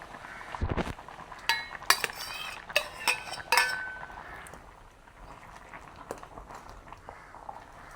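Pumpkin pieces are dropped into a cooking pot, a short run of clinks and clatters of metal utensils against the pot, close and fairly clear, then settling into quiet rustling.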